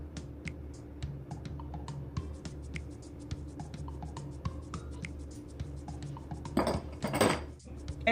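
Buttercream being scraped from a mixing bowl: a quiet run of light clicks and scrapes of a utensil against the bowl, ending with a couple of louder, longer scraping strokes.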